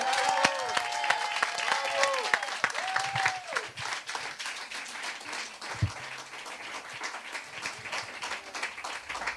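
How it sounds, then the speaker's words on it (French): Audience applause at a live French event, sustained dense clapping from a crowd filling the whole stretch, steady and fairly loud with a few faint voices underneath. "On peut l'applaudir une nouvelle fois"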